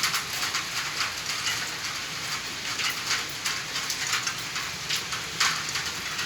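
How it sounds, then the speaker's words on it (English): Heavy rain pours steadily and loudly, a dense close hiss with scattered sharper drop impacts and brief surges in intensity. "It's raining, guys."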